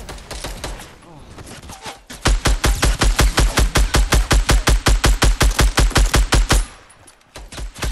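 Rapid automatic gunfire from a shotgun in the Fortnite video game, a fast regular volley of loud, close shots lasting several seconds. Game noise sits underneath, with a few scattered shots before and after the main burst.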